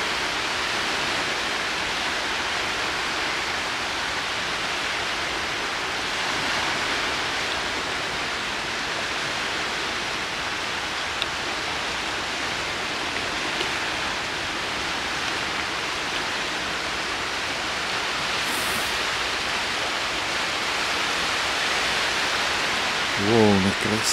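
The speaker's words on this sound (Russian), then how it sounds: "Волны красивые." Water waves wash and splash steadily at the Peterhof fountains, a continuous broadband rush that fills the scene near and fairly loud for the whole span, with no pause.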